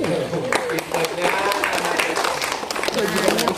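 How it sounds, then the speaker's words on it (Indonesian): Children in a classroom clap together in a dense burst of applause alongside a teacher's voice, during a lesson about firefighters; the clapping is steady and close, with speech mixed in throughout. "Tepuk tangan dulu."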